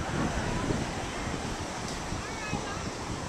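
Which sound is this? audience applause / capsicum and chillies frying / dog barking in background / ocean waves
ocean waves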